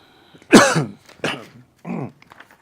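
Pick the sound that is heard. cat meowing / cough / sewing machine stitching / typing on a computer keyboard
cough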